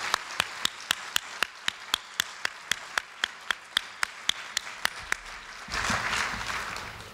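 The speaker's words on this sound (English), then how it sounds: "I ask you all now to join me in a hand of applause" Slow, steady clapping at a formal dinner speech, sharp separate claps at an even pace that swell into broader, fuller applause near the end.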